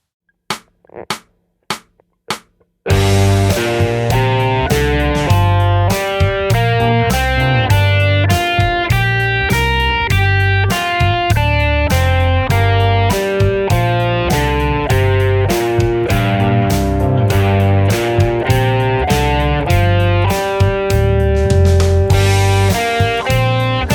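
A few sharp muted strums, then a loud distorted electric guitar solos continuously in the minor pentatonic scale over a full backing band with drums and bass.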